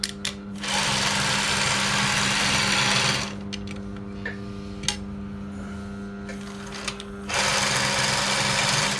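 An industrial SMITCH 20u53 sewing machine stitches zigzag in two loud bursts of rapid, continuous mechanical whirring, separated by a quieter pause with a few clicks and a steady motor hum underneath.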